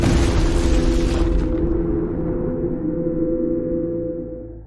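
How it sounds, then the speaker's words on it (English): An explosion in the video game Scorn: a heavy rumbling blast with a broad burst of noise that quickly dies away, leaving a low, sustained roar and hum for several seconds. "the tree organisms suddenly explode, making the entire area in great shaking"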